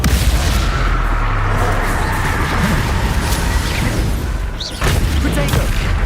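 Bombarda explosion spell cast in the Hogwarts Legacy video game during a goblin battle, a dense continuous barrage of booming blasts and crashing impacts, loud and close, with a short dip before another burst near the end.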